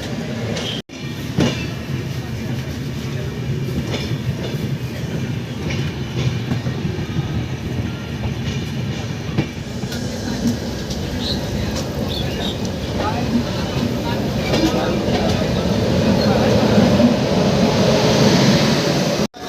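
Train pulling away from Malda station on the Howrah to Guwahati route, heard from inside as a steady, loud rumble with rhythmic wheel clatter that builds slightly toward the end.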